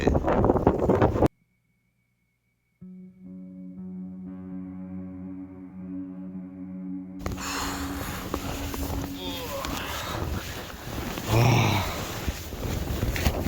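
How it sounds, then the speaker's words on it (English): Strong wind buffets a hillside wild camp in Scotland, with loud broadband gusts roaring across the microphone. A voice talks over the wind during the later half, and a brief quiet gap breaks it early on. "it's blowing a hoolie up here"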